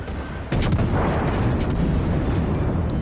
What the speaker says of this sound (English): One more salvo ought to do it.